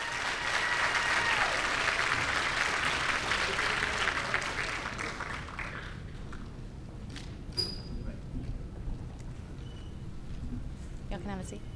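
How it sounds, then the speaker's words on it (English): An audience at a school math competition gives a round of applause, steady clapping for several seconds that fades out, followed by quieter room noise and a few faint voices. "One more round of applause for our first 5."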